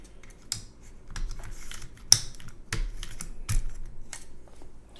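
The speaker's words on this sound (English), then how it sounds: "This is a lubed Nixie switch, and it sounds, the spacebar sounds like trash" Mechanical keyboard with lubed Nixie switches typed on in scattered clicky bursts, with a few louder, hollow spacebar thumps standing out among the keystrokes; close and clear, no talking.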